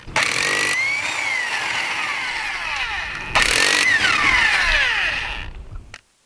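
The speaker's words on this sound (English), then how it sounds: "Use a 3/4 socket to remove the lugs." Lug nuts come off a C7 Corvette wheel with a 3/4 socket on a power impact tool, two loud whirring bursts with pitch sweeping as each nut spins free, close and alone.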